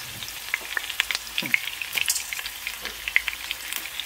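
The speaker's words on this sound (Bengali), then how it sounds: "কারণ এগুলো গরম তেলের মধ্যে ফেলে ভালো একটা সেন্ট হ্যাঁ আসে" Onion, bay leaf, cloves and black peppercorns crackle and sizzle as they are dropped into hot oil, with a steady close frying hiss broken by irregular sharp pops, alone with no talk.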